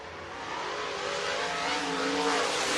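Race cars on the Ice Bowl track pick up speed again, with engines rising from a growl into a loud, building whine. The sound of the cars accelerating past swells steadily, with no voices over it.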